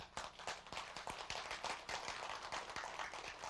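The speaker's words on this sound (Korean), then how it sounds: "어째 박수 처리가 적다?" A small lecture audience claps in a steady, sparse rhythm of distinct hand claps, fairly quiet and close, continuing without talk for a few seconds.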